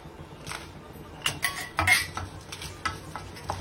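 Lentils and ground masala roasting in a pan for sambar, with a spoon stirring and scraping against the metal in irregular clinks over a soft, steady sizzle.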